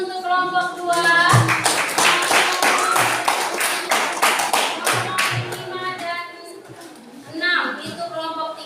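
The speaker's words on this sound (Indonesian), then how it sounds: "kita beri aplaus untuk kelompok 2" Classroom applause for a student group: a burst of rhythmic hand clapping from several people, loud and close, running for several seconds before fading, with a voice speaking before and after.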